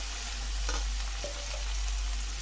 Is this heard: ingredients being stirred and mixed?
yes